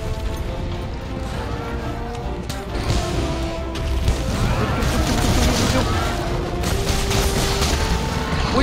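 Explosions in Monster Hunter World boom and crash repeatedly over a rumbling background, with bursts of impact noise close together.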